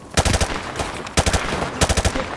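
Rapid automatic gunfire from the Modern Warfare 2 Remastered video game, three loud bursts of closely spaced shots separated by short pauses, close and sharp with no talking.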